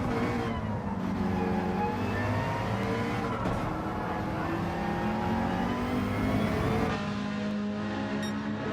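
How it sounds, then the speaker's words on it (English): McLaren race car engine in a racing game on the Nürburgring Nordschleife, roaring continuously with rising and falling rev sweeps and gear changes, loud and close throughout, no talking. "Just listening to that McLaren engine roar."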